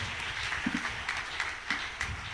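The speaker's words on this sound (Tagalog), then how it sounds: "Lahat pumalakpak sa ating mabait na Diyos." A church congregation claps together during worship, the applause steady and moderately distant, forming a continuous wash of claps with faint voices underneath.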